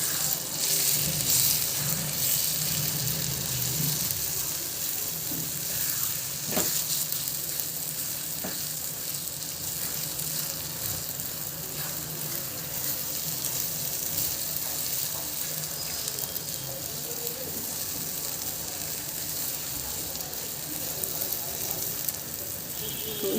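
Okra bhujia frying and being stirred in a pan, a steady loud sizzle with occasional scraping and clinks of the spatula, lasting throughout without a break.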